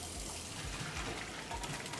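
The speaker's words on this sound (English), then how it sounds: "wash all this meat with the running water." Tap water runs steadily over raw meat being rinsed after a five-minute parboil for kimchi soup, a continuous close gush with small knocks and clatter from handling the pieces.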